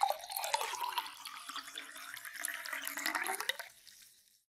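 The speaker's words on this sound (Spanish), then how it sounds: "Agrega hielo en el cantarito y después vierte lentamente esta mezcla refrescante." Mango drink mixture poured slowly over ice into a clay cantarito, a close liquid gurgle and trickle over ice lasting about four seconds before tapering off to silence.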